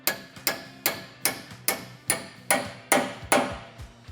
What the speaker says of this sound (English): We're gonna go ahead and take a hammer.